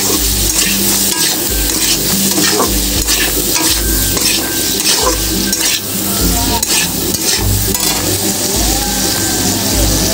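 Young jackfruit frying in a pan with turmeric powder for a Bengali jackfruit-and-prawn curry, a loud, steady sizzle broken by frequent scraping stirs of a utensil against the pan.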